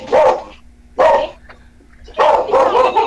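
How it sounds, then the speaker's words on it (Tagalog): Dog barking loudly and close by in three separate bursts, each a quick cluster of sharp barks with short quiet gaps between. "maingay yung aso."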